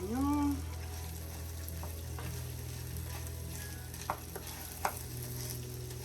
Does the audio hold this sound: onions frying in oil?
yes